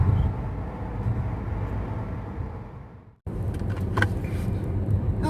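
Car on the road heading home, a steady low engine and road rumble from inside the cabin, dropping briefly to near silence before resuming with occasional knocks and clicks.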